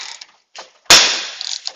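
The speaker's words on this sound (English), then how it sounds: "what that pop was is the press built up energy, and then it had enough and it just reset" A ball joint press lets go with a sudden sharp pop after building up pressure, followed by a brief metallic ringing decay, with small clicks before and after.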